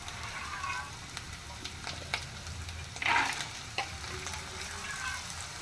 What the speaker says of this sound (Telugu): ఇప్పుడు మనం వేగిన కదండి బఠానీలు వేసుకున్నాం